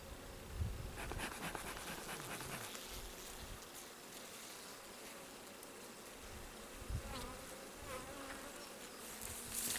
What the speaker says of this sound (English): there's so many bees all over this stuff that I can't see what's going on in there